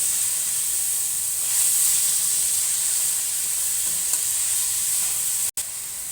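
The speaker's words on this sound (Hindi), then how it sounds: "अभी भी हम इसको तेज़ आंच पे ही पकाएंगे, सिर्फ 1 मिनट के लिए सॉस को मिक्स करेंगे" Vegetables and sauce frying on high heat while being stirred for vegetable macaroni, a steady loud sizzling hiss with faint scraping of stirring and one abrupt cut near the end.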